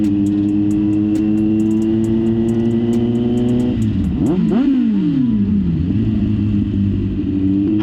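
A Kawasaki Z900 motorcycle engine idles steadily at a classic car event, then revs hard in several quick blips that rise and fall before it settles back to idle, loud and close.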